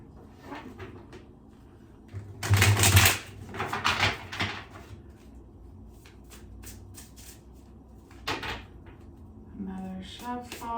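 Tarot cards riffle and slap together in a few short bursts of shuffling, close and crisp, with quiet handling noises between them.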